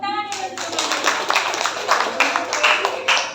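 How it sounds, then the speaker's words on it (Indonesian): An audience of children and adults clapping hands at a nutrition education session, a lively burst of many hands right after a voice, continuing with uneven accents for a few seconds. "Tepuk tangan ya"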